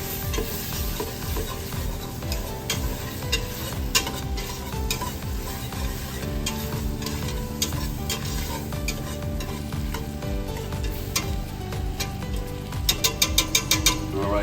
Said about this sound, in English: We're gonna go ahead and add the flour. We'll get that all mixed in.